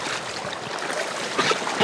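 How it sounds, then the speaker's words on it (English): River rapids rushing ahead of a boat, a steady broadband roar and hiss of churning water, continuous and fairly loud. "You can hear rapids up there."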